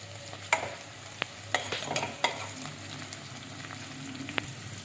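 Curry leaves hit a pan of frying onions and green chillies, a low sizzle with sharp pops and crackles and a few spoon clinks, then steady stirring, heard close with no voices.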